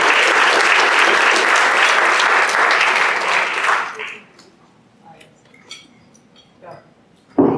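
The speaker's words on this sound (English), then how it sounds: "Good round of applause for Cherry Hildreth." Loud applause at a Rotary meeting for Cherry Hildreth, full and steady for about four seconds before dying away, followed by quiet room sounds, faint voices and a sudden bump near the end.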